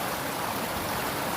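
Water rushes continuously through a gold sluice box set in a creek, a dense, even, close-up wash of flowing noise with no breaks.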